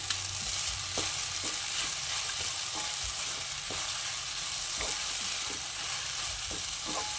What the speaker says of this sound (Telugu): అందులో వేసి బాగా మిక్స్ అయ్యేటట్టు కలిపేస్తుంది.